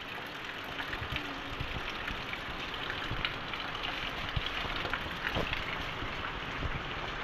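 Rain falls steadily as a broad, even hiss with scattered drips and taps close by, with no talking.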